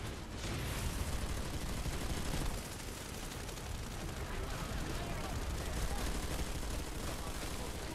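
Gunfire from the video game Planetside 2 crackles loudly and continuously in dense bursts, layered with explosions and battle noise, while a player talks over it.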